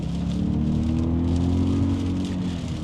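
Rain hisses steadily over a Toyota Highlander as it is driven in wet weather. A smooth engine drone rises slightly under acceleration, and no one speaks.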